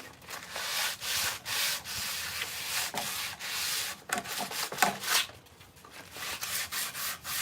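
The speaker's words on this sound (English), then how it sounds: "Sandpaper is kind of flimsy." Wood for a hawk perch being hand-sanded with sandpaper: close, rhythmic rasping strokes in quick repeated bursts, fairly quiet, with no talking.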